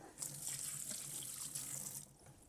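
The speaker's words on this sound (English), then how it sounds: "There you go, you rinse it off." Squid for Korean-style fried squid is rinsed under a running kitchen tap, giving a steady splashing water stream at close range for a couple of seconds, with no voices.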